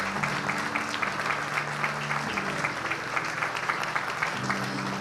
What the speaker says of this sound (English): Let's give another round of applause to thank President Tsai and Chairman Yo